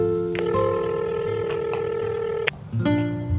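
Telephone dialing tones sound loud and close: a sustained steady tone with a few short key beeps over it, then a brief break and more tones near the end, with no voice.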